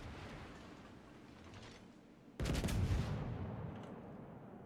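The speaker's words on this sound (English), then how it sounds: "torpedo hit and ricochet" World of Warships battle aboard the Alaska supercruiser: a steady rumble of naval gunfire breaks into a sudden loud, crackling impact burst as a torpedo hits and shells ricochet, then fades back to a lower roar.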